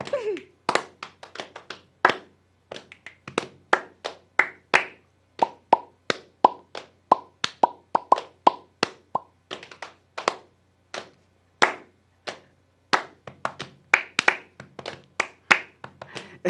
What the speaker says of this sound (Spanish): vas a hacer dos golpecitos en los muslos y palmas